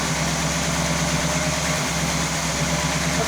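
A Chevy big block V8 in an abandoned 1966 Biscayne idles steadily at about 1,000 RPM, with a dense, even low rumble and vibration heard up close and no voices.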